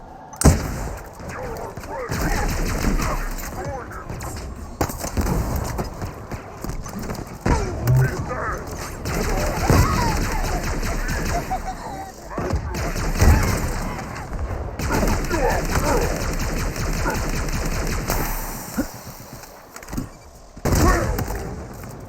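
Gunfire in the Halo Infinite campaign comes as repeated bursts and volleys mixed into a busy game soundtrack. A person talks over much of the shooting.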